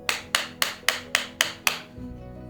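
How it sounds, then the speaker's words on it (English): Seven sharp, evenly spaced hammer blows drive pegs down close by in quick succession, each with a short metallic decay, then stop. "it needs some weight to it to be able to hammer these down"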